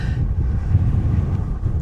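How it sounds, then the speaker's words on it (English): Steady, heavy wind buffeting the microphone with a low continuous roar at a hilltop viewpoint above White Lake, no talking. "Wow, it's windy."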